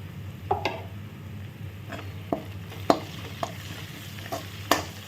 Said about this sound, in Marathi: तोपर्यंत फोडणी छान फ्राय झाली